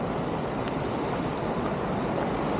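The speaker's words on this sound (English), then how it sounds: "we're at the top of the waterfall here" Water rushes in a dense, even wash heard from the top of a waterfall in Iceland, a steady soft roar with no breaks.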